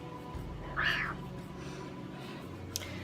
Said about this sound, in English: when you hear a cat in the background, this is my cat.